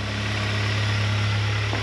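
A Honda G23 VTEC car engine idles steadily and close by, with a constant low rumble and a smooth, even rhythm throughout, and no talking.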